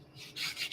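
Quick scratchy strokes of a sanding stick on a small carved pine-wood tree, a few short close rasps in a row.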